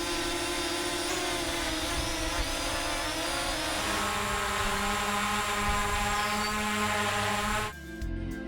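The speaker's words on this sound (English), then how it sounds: "The Anafi is quieter by a tiny bit, but it has more of a whine to it," Parrot Anafi drone flying overhead, a steady loud propeller whine with dense high-pitched tonal bands holding constant throughout before cutting off near the end.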